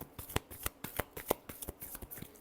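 Tarot cards being shuffled by hand in a quiet room, a quick run of crisp riffling taps and slaps, several sharp card snaps standing out, close and alone.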